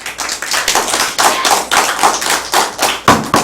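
A small group claps, sharp overlapping hand claps forming brief, loud applause that continues steadily without voices.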